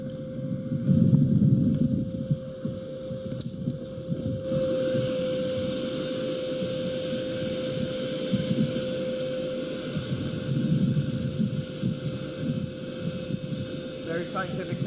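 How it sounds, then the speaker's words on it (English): A blower hums steadily aboard an electric boat, a constant tonal whine over water and wind noise through the whole stretch, while someone talks at intervals. "actually I'll let the blower go for a moment"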